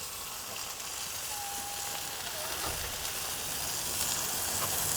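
Steak sears on the cooking grates of a hybrid grill, heard as a faint, steady hiss of sizzling that builds slightly over several seconds with no voices.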